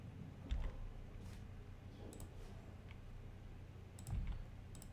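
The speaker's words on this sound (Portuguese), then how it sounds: "Vou digitar aqui, ó." Sparse, quiet clicks of typing on a computer keyboard, a few scattered keystrokes over a steady low hum, with no one talking.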